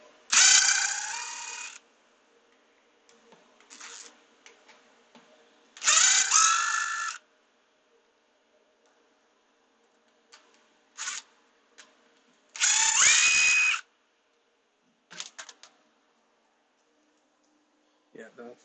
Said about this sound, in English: Alright, so let's take this entire bumper off.